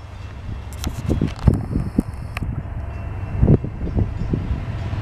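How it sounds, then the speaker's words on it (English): A Norfolk Southern southbound mixed freight train passes in Marion, Ohio, giving a steady low rumble with repeated heavy thumps and clanks rising and falling over the five seconds. "Got another train."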